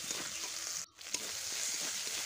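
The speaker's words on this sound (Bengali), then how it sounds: "প্রায় 2-3 মিনিটের ওপর ধরে আমি মশলাগুলোকে কষিয়ে নিয়েছি।" Tomatoes and spices fry in oil for a hilsa fish curry, making a continuous sizzle that drops out briefly near the middle, then resumes with an occasional stirring scrape.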